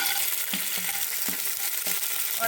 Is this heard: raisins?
yes